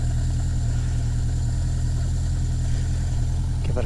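A 1980 Yamaha XS 1100 Special motorcycle engine idles on choke, a loud, steady, close low throb with an even pulsing rhythm throughout.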